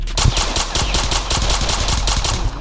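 Rapid automatic gunfire in a South Bronx Trenches Roblox match, a loud, evenly spaced burst of shots running without a break.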